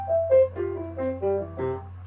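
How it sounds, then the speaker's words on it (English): Piano arpeggio played without wrist rotation, a short descending run of separate notes that sound slightly disconnected, close and moderately loud with a steady low hum beneath and no talking. "So you hear arpeggios that sound like this."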